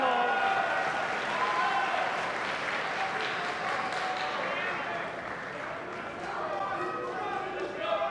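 A large crowd applauds steadily throughout a men's singles quarter-final at the table tennis World Championships, sustained clapping filling the arena while a commentator's voice talks over it.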